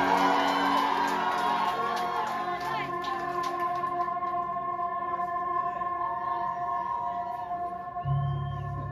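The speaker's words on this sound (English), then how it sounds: "please give him a round of applause" Cheering and whooping from a festival audience at a live show in Alpas, La Union, a steady crowd roar with shouts running throughout, music tones sustained underneath and a low rumble rising near the end.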